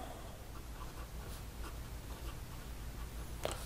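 Pelikan M805 fountain pen with a medium 18K nib writing on paper, a soft continuous scratching with faint strokes at close range, alone with no talking.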